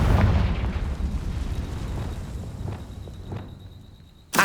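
Confringo spell blasts in the video game Hogwarts Legacy, a heavy booming explosion that rolls off into crackling debris and thuds, ending with a sharp bright burst.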